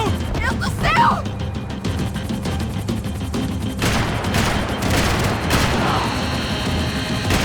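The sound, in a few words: gunfire in video game Max Payne 3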